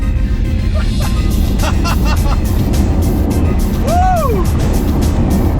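A Tesla Model 3 Performance Edition pulls away hard, a steady loud road and cabin roar, with excited exclamations and a brief whistling tone partway through.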